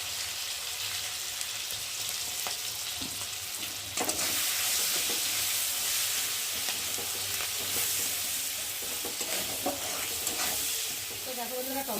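Kochur loti (taro stolons) fries in a pan with tomato, green chilli, turmeric and salt, giving a continuous sizzle broken by occasional stirring scrapes and clicks.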